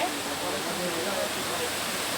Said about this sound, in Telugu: ఇక్కడ సప్పుడు వస్తుందంటే మీకు అర్థం కావచ్చు నీళ్ళు పోతున్నాయని